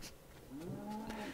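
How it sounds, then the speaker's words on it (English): A single low, drawn-out bleat from a Minecraft sheep in the video game, brief and fairly clear, rising then holding for about a second with no talking over it. "And we have a sheep"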